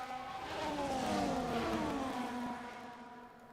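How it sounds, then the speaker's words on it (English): Formula 1 race cars in the F1 24 video game stream out of the pit lane, a dense blend of high-pitched engine whines rising and overlapping, steady and moderately loud throughout. "But majority of the cars flooding out of the pits."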